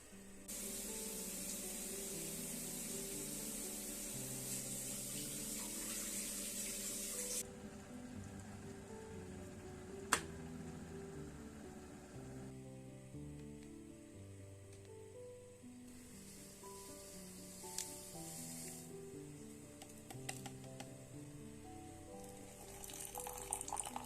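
Tap water sprays and rushes steadily into a kettle for several seconds, then the flow continues with a lower, filling tone, close and quiet, with faint clinks.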